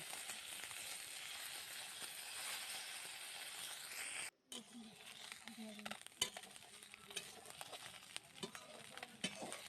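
Small river fish coated in salt and turmeric fry in hot oil with a soft, continuous sizzle, broken by a brief pause, then light clinks of a utensil turning the pieces in the pan.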